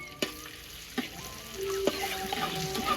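Shallots and chilli sambal paste frying in a pan for a spicy village-style cassava leaf dish, a soft low sizzle with a few sharp utensil knocks against the pan.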